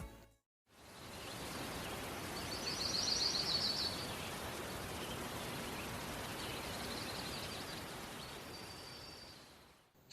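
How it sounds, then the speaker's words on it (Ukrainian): A soft, steady rush of wind through trees in a forest clearing, broad and constant, with faint bird chirps drifting in briefly. "це звук вітру на лісовій галявині"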